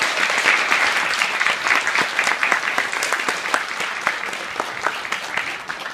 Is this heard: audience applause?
yes